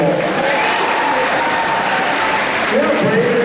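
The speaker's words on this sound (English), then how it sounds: "We have to give a round of applause for this 10-year-old." Large convention audience of about 2,000 at a Vampire Diaries comic and film panel applauds for a 10-year-old fan, a dense, steady wash of clapping filling the room throughout with a faint voice underneath near the end.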